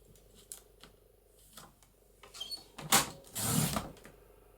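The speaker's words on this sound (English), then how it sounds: "I need to cut it down to about 4½ inches" Paper cut from a book is trimmed down to size for ephemera, with a few soft clicks followed by a brief louder slicing and rustling burst near the end, close by and with no talk.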